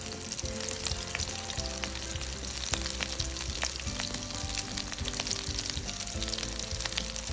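Potato tikki patties shallow-frying in oil over low heat give a steady, close sizzle with scattered crackles and pops running throughout, with no voices.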